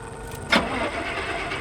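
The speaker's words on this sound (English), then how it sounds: "Start the engine." A worn-out old car engine in a driving survival game cranks and catches with a short burst, then settles into a steady, beefy idle rumble.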